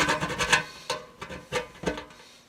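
A burr being cleaned out of a hole drilled in a brewing kettle for a spigot: several short rasping scrapes in an uneven rhythm, close and fairly quiet, with brief pauses between strokes.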